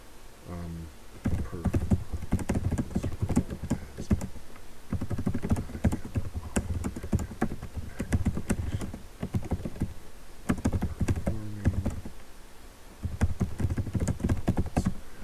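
Text being typed on a computer keyboard, a fairly close, rapid irregular clatter of key taps in bursts with brief pauses between runs.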